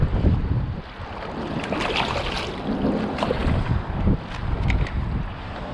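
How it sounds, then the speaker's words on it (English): Strong wind of 15 to 20 mph buffets a fishing boat on open water off Destin, Florida, with a strong incoming tide, giving a steady loud roar and rumble of wind noise with choppy gusts throughout. "now we've got, you know, 15 to 20 mile an hour wind plus an extremely strong incoming tide"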